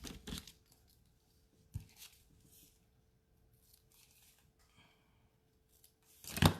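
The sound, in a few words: trimming paper ends with scissors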